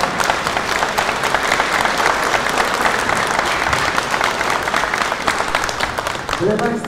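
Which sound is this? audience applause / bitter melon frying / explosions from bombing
audience applause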